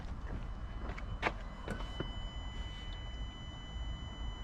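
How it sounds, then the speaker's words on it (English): Fuel pump on a 2016 Peugeot Boxer van priming with the ignition on, a faint steady whine under a few sharp clicks and knocks nearby. "start the ignition for 10 seconds to let the pump prime"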